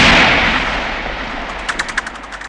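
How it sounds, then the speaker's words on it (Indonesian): A single gunshot rings out in the western film Once Upon a Time in the West, a loud sharp crack at the start that fades into a long echoing tail, followed by a few faint clicks. "Hingga tak berapa lama terdengar satu tembakan."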